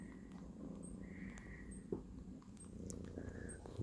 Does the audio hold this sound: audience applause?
no